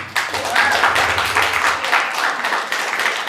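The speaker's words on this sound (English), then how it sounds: "Clap that up." An audience clapping during a talk on Jewish studies, a short loud round of applause with many overlapping hands, fairly close, and faint voices beneath.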